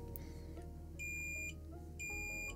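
An Amber Pro NAS device emits two short, identical electronic beeps during setup, about a second apart, high and clear over a low steady hum.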